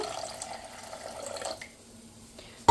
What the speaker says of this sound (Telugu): కొంచెం వాటర్ తీసుకొని ఫస్ట్ గిన్నెలో వేసుకోవాలి